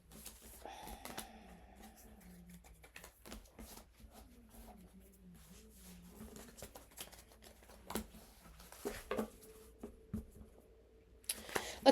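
Tarot cards are shuffled quietly up close, with soft riffling and flicking bursts and a faint low hum in the background.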